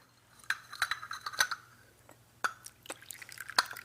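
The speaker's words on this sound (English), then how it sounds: "Let me pour you a cup of tea, dear." Tea being poured into a cup in a quiet domestic setting: short irregular splashes and drips, a few sharp clinks, fairly soft and close, with brief pauses between pours and no talking.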